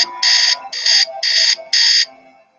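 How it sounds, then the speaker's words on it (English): An alarm clock rings in the Message in a Haunted Mansion video game. It gives four loud, evenly spaced electronic beeping bursts, each about a third of a second long, sharp and close, with faint background game sounds. "That alarm will wake me up every day."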